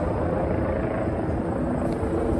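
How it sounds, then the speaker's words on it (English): NYPD police helicopter and a news helicopter circling over Times Square in New York City on New Year's Eve, a steady dense low rotor drone blending with loud crowd and street noise, continuous throughout. "we have one NYPD helicopter and the other one is a news broadcast"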